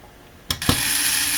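Tight screws being loosened on the metal case of an old AOpen FSP 200W power supply, heard as a short pair of sharp clicks and a crack, followed by a steady rasping grind, close and loud with no talking.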